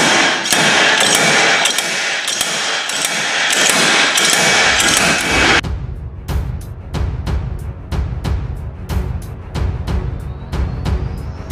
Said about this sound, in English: Now we'll pull the hub off with the slide hammer